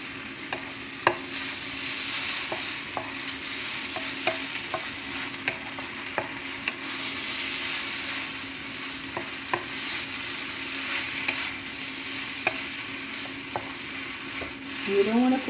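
Shrimp and soy sauce fried noodles seasoned with Maggi are stir-fried in a pan, a steady sizzle running throughout with regular scrapes and clacks of the utensil tossing the noodles, close and fairly loud, with no talking.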